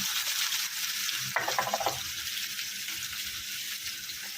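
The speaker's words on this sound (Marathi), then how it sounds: "कांदा व्यवस्थित भाजून घ्यायचा" Onion frying in oil with mustard seeds and cumin, a continuous near sizzle with a brief burst of stirring or popping partway through, no voices.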